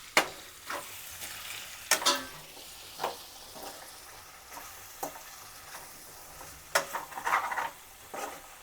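Chicken frying for a dry roast sizzles steadily while coriander powder is stirred in, with a spoon scraping the pan in irregular strokes over the constant hiss.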